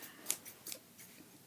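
Scissors snip through plastic packaging of a Logitech wireless touch keyboard, a few quick sharp cuts close by with no talking.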